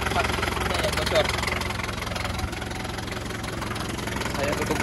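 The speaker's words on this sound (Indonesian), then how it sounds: "Ada knalpotnya yang bocor." A 1990 Daihatsu Taft engine idles with a leaking exhaust, giving a steady, close rumble with a rapid puttering tick running through it, and a voice is heard at times over the engine.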